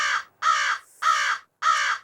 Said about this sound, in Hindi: ये तो सच में कौवा कहाँ कहाँ कर रहा है।